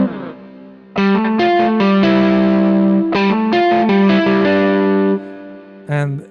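Slide notes from a guitar VST plugin with tapping articulations, heard as loud, sustained electric-style tones with distortion and effects, several sliding phrases in a row, then a brief final note, alone without talk.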